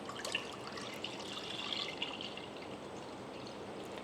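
A litre of milk poured for custard in a home kitchen, a steady soft liquid stream running continuously for several seconds, close and fairly quiet with no talking.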